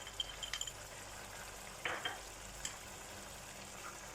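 Ground spices such as dry coriander, turmeric, red chilli powder, chaat masala, amchur and garam masala fry lightly in a pan, giving a faint, steady sizzle broken by a few soft scrapes and clinks of stirring.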